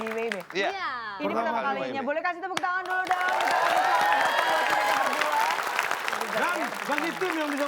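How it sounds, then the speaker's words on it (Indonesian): Studio audience on an Indonesian TV quiz show breaks into sustained applause and cheering, building loud and dense after brief speech at the start, with laughter and chatter mixed in. "Boleh kasih tepuk tangan dulu dong."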